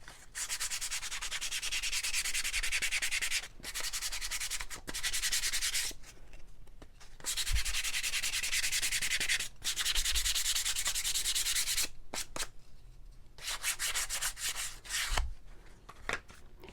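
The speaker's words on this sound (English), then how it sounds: "I'm going to sand this really quickly" Sanding of a painted wooden shiplap platter, a steady loud scratchy rasp in long strokes broken by several short pauses, close and alone.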